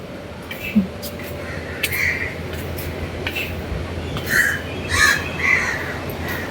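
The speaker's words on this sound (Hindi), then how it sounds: "कौए तो इतने।" Several crows caw from a tree overhead, harsh calls scattered through the stretch and growing louder toward the end, over a constant low background rumble with a voice talking at times.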